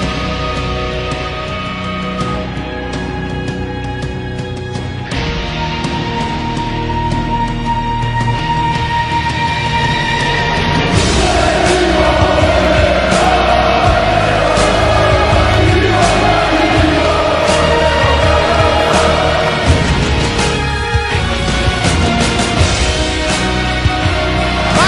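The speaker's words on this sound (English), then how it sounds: "it's a stunned Macedonian crowd here" A Macedonian crowd fills a handball arena at Euro 2012 after a last-second finish against Poland. The loud, sustained roar carries horn-like tones, and its mass of voices swells further toward the middle.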